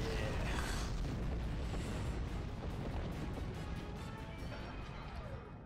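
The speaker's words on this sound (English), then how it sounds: "Forward disruptors engaged. And boom." Starship disruptor fire and explosion in a video game: a heavy booming blast that rolls into a long rumbling decay, loud at the start and fading over several seconds.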